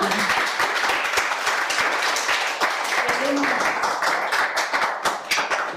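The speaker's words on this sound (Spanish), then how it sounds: "pues se merece un aplauso fantástico y maravilloso" An audience at a Spanish-language tech presentation applauds steadily, a dense wash of many hands clapping that holds for several seconds without letting up.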